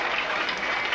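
Dense, steady clapping from an audience at a 1995 school festival, loud and continuous like a crowd applauding together.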